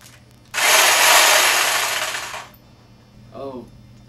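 An electric hedge trimmer buzzes loudly for about two seconds with a harsh, steady motor drone, then cuts off, followed by a brief voice.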